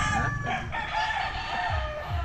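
Chickens, including aged moulting hens, clucking and a rooster crowing among a busy flock, with steady farmyard clamor throughout.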